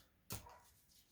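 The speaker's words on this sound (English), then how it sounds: "So if you hear barking in the background, that is her." A dog barks once in a kitchen, a single sharp bark that stands out clearly in an otherwise quiet room.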